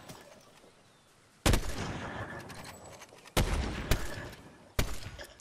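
Sniper rifle shots in the Fortnite video game, three sharp loud cracks spaced about two seconds apart, each trailing a rumbling echo over faint background game ambience.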